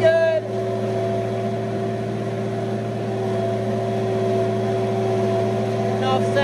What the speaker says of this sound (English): Tractor seems to be running it like it always does.